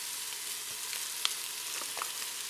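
Butter melting over chicken and garlic mirepoix in a pan for chicken noodle soup, a soft steady hissing sizzle with a few faint crackles and one small tap.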